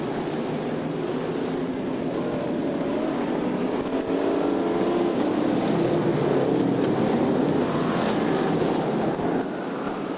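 Race cars roar around Peoria Speedway in a continuous loud, surging engine drone that swells and fades slightly as the pack runs down the back straightaway.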